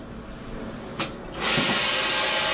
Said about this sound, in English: we're going to go ahead and work that in with a mechanical CRB.